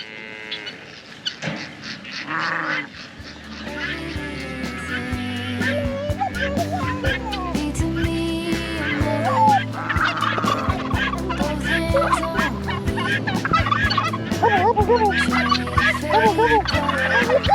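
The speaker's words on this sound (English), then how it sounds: "You see the ducks running behind the chickens." A noisy crowd of ducks and chickens running for food gobbles, quacks and squawks close by, with many overlapping calls building in density, under music and a voice talking.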